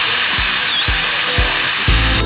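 Inside a Bilstein shock absorber tube, a brush is run at the factory, giving a loud, steady whirring with a rhythmic knock about every half second.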